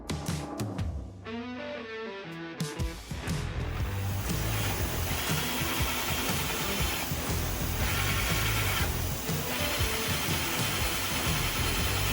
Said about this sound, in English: That is a dull ass drill bit.